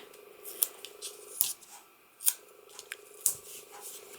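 Cutter Bee non-stick scissors snip paper for handmade Christmas cards, giving several sharp, close cuts spaced across a few seconds over a soft steady background hum, with no talking.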